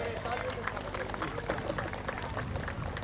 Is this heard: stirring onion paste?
no